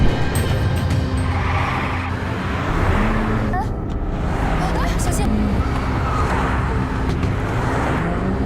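Cars racing in a road chase scene, engines roaring loudly and steadily with a brief tire squeal and passing traffic, a dense continuous wall of motor noise with a voice underneath.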